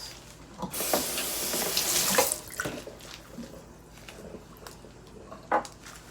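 Kitchen tap running as a cutting board is rinsed, a loud splashing gush for about two seconds, then quieter drips, handling sounds and a small knock as the water stops.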